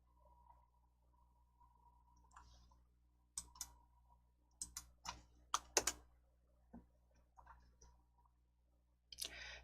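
Computer keyboard and mouse in a quiet room: scattered sharp clicks and short runs of key taps, faint at first, then clustering into a busier burst midway, with a last click near the end.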